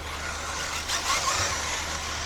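A race car at a track, likely an RC racing main event, passes by with a brief rising surge of engine or motor noise over steady broadband background hum and crowd ambience, heard from a distance.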